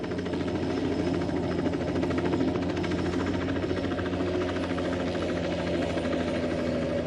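A helicopter hovering stationary while losing altitude, heard as a steady, loud broadband engine and rotor drone with a low hum that holds unchanged throughout.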